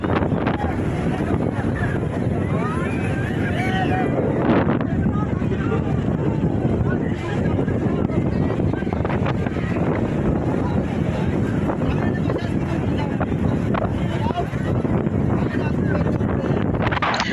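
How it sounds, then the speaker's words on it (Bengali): Strong wind at a sea beach in Digha buffets the microphone in a constant roaring rumble, with faint surf and voices beneath, steady for the whole stretch. "খুব সুন্দর ওয়েদারটা ছিল কিন্তু হাওয়া প্রচুর চলছিল"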